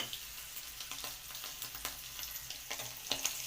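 Oil sizzles steadily close up as shrimp fry, with scattered crackles and occasional clinks from stirring.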